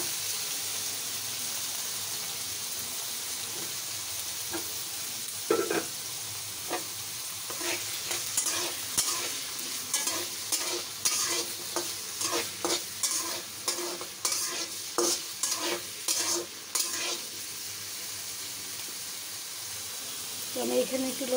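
Small pieces of potato and chopped onion fry in a pan with a steady sizzle, and a spoon stirs and scrapes in repeated clinks over the second half, fairly close, with occasional talk underneath.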